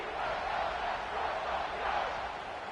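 Steady roar of a stadium crowd during a college football video game, building noise as the kicker lines up a field goal; a dense, continuous wash of cheering that swells slightly near the end.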